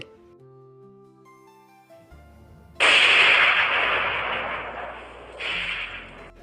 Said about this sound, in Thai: จะยิงระเบิดทุกคนระวังด้วย